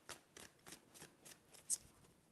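Tarot cards being shuffled by hand, a run of soft, quick riffling flicks in an uneven rhythm, close and quiet.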